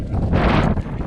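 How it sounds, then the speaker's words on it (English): A short gust of wind blows across a snowbank and buffets the microphone, producing a loud, rough rumble that swells and fades within about a second. "It's a windy condition"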